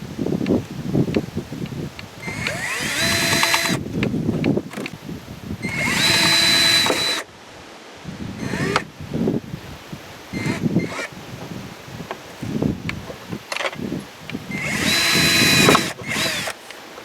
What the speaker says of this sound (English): You want to just drill through this small floppy part.